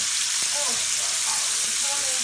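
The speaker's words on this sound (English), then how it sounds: "So we're gonna stir the bacon for the bacon dip." Bacon frying in a pan while being stirred, a steady close sizzle with faint scraping of the stirring and a few soft clicks.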